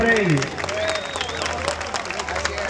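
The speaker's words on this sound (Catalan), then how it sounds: "un fort aplaudiment per ell." Applause for composer Jordi Paulí in front of a cobla at a sardana gathering, a steady wash of clapping from a crowd while a voice briefly sounds over it and a low hum runs underneath.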